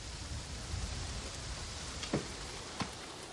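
A heavy downpour makes dense, constant hissing rain noise outdoors, with a couple of sharper drop or knock sounds rising briefly out of the wash.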